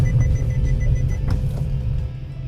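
Warning beep inside a Kia Sonet iMT with no clutch pedal, repeated soft tonal pips over the steady low rumble of the cabin and engine while driving.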